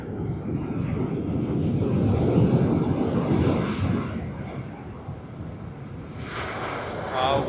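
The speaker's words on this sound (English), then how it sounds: "Let's capture the black livery of Air New Zealand service from Auckland on its Boeing 777-300ER." Air New Zealand Boeing 777-300ER in black livery, arriving from Auckland at Sydney Airport, gives a loud, sustained engine roar that swells midway, eases slightly, then rises again.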